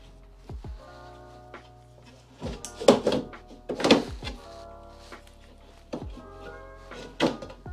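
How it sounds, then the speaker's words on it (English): Car window glass pulled from the door of a Mazda MX5 Miata Mk1 with a manual window, giving a few hollow thunks and scraping knocks at intervals, close and moderately loud. "And now we should be able to pull that window out of the door."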